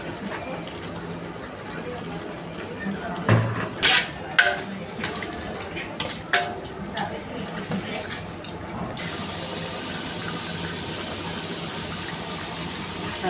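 Water is poured into a pot of chicken gravy for biryani rice, giving a few splashing bursts followed by a steady running pour, with a voice speaking over parts of it.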